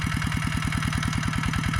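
A walking tractor engine runs steadily in a chili field, its rapid even thumping beat loud and close with no talk over it.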